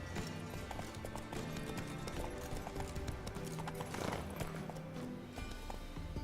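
Horse hooves clip-clop in The Witcher 3 video game, a quick continuous trot of sharp hoof strikes over busy game ambience, with a brief whinny-like swell midway.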